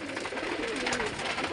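Pigeons in a breeding cage cooing close by, a soft continuous throaty murmur throughout the short moment.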